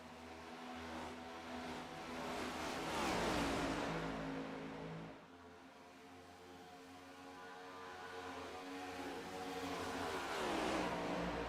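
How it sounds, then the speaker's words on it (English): Race cars in a racing video game roar at about 195 mph into turn 1 of a fast track, a dense, loud engine drone that swells past, dips briefly, then builds again as the pack streams through. "these cars are hauling 195 miles an hour getting to turn 1 right there"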